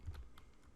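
A single soft key press on a computer keyboard, the Enter key tapped once during typing, close and faint with no other sound around it.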